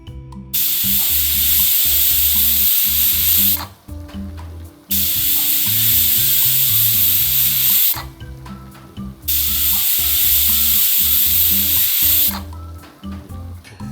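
A pressure cooker cooking soaked peas lets out three long, loud steam whistles, each a sustained hissing blast of several seconds separated by brief quiet gaps.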